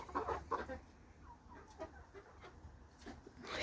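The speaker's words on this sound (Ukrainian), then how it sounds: "Ой, ці кури. Знаєте, тут кури." Chickens cluck softly nearby amid faint rustling, a few short clucks scattered through the moment.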